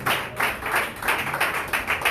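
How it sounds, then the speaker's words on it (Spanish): A church congregation claps together in an even, rhythmic beat of close, loud hand claps that repeats steadily throughout. "Aleluya, con un aplauso a Dios"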